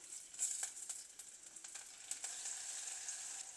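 Curry leaves, green chillies and ginger-garlic paste fry in hot oil for a Sri Lankan baby jackfruit curry, giving a faint, continuous crackling sizzle with scattered pops and no voices.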